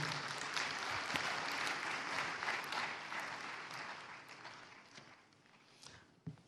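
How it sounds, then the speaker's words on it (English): Faint, distant applause from an audience for a choir at a peace blueprint launch event, a soft broadband patter that gradually thins and fades. "let's give them a hand of applause"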